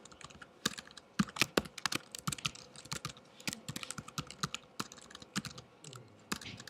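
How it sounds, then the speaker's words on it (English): Rapid, irregular clicking of keys on a computer keyboard, fairly close and steady throughout, with occasional louder keystrokes and no talking. "Having a hard time typing here."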